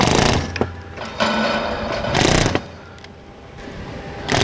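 Power drill boring out rivets on a tank's finishing rings, short bursts of whirring and grinding separated by pauses, close and fairly loud.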